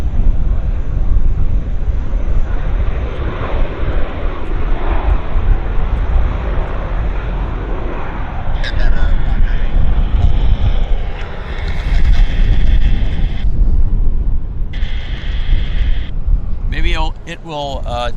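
An airplane engine roars loudly and steadily at Vancouver airport, with strong wind noise against the microphone and occasional higher-pitched whine near the end.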